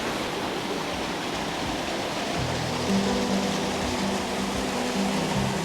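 A waterfall in Bali beside a small temple rushes in a constant, dense hiss of falling water, with a faint low hum joining partway through.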